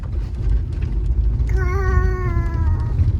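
A single drawn-out cat meow sounds for about a second over a low, steady rumbling background.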